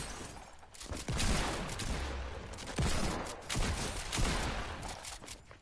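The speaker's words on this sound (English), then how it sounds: "I'm shooting at the wall" Video game gunfire rings out in dense, rapid volleys, loud and nearly continuous, with brief gaps between bursts and no voices over it.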